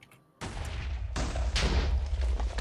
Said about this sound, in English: cannoning just the iron block and the TNT supplies, I guess